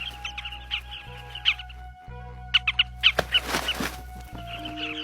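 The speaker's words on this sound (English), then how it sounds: "As more birds arrive, competition for the best nesting sites heats up." Busy nesting colony of bee-eaters, up to 6,000 nests packed together, with short bright chirping calls coming in clusters and bursts over a faint steady background hum, some calls near and others farther off.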